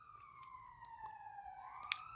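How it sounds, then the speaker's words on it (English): An emergency vehicle siren wails outside at a distance, a faint rising and falling tone over quiet background. "here's a siren to kind of reinforce this"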